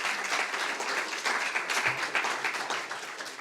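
Steady audience applause for a student's project at a regional sales competition final, continuous and fairly soft, with no voices over it.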